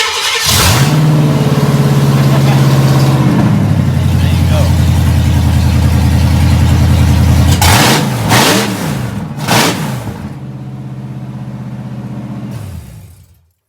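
A Ford Mustang Foxbody with a 5.0 V8 cranks and catches, settles into a loud rumbling idle, then gets a few sharp revs before dropping off and shutting down near the end.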